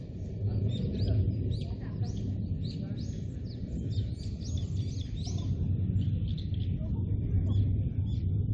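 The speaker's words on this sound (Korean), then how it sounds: "새소리 들리세요?" Small birds chirp and tweet intermittently in the distance at a mountain temple in Korea, over a steady low rumble of wind or outdoor ambience.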